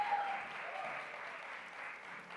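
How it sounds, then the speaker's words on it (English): Audience clapping at a talk, a faint, steady patter of applause from a modest crowd, heard at some distance with no speech. "some people in the audience organically are clapping"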